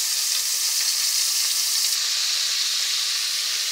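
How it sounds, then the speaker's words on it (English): Thinly sliced mountain oysters (hog fries) frying in oil make a loud, continuous close sizzle with a dense bubbling hiss throughout and no talk. "You get them frying here."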